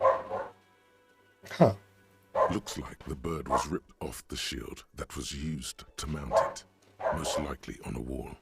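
A dog in the room barks in short, sharp bursts, close and fairly loud, overlapping with and breaking up a man's speech.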